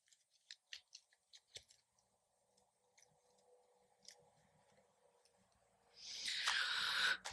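A deck of tarot cards makes a series of light taps and clicks, then a dense, louder riffling burst near the end as the cards are shuffled. Everything is close and the room is otherwise quiet.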